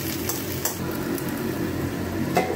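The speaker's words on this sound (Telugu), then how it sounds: "అలాగే బెండకాయలు ఉల్లిపాయలు అవి వేగుతుంటాయండి." Okra and onions dry-frying in a pan with very little oil give a steady, soft sizzle. A few faint clinks of a utensil against the pan sound close by.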